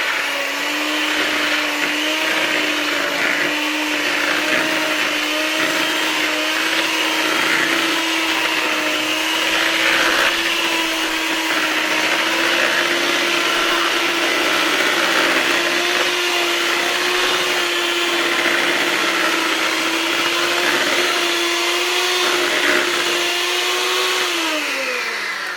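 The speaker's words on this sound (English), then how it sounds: "we're going to take our hand mixer and beat this" Handheld electric mixer whirring steadily in a bowl, beating a chocolate lasagna filling, a loud continuous motor hum that holds a steady pitch for about 25 seconds before winding down at the end.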